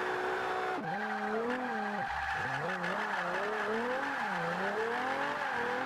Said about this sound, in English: It looks like I'm drifting all-wheel drive, but honestly that's because I've got my back wheels jammed on handbrake and just pinning throttle.